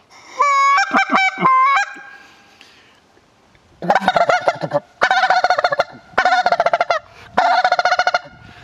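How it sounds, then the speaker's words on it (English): A hunter blows a handheld goose call in loud, close bursts: three sharp honks, a pause, then four rapid clusters of raspy honking notes in quick succession. "it's a little tougher because you got to get your air right on this goose call, and it is a goose call"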